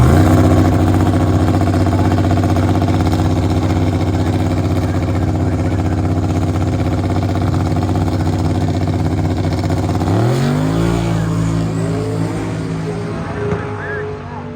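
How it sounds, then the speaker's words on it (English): A 1988 Dodge pickup truck drag racing at Cordova Dragway: a loud, roaring engine holds a steady drone, then shifts pitch and slowly fades into the distance. "Tim Shard in the 1988 Dodge pickup truck."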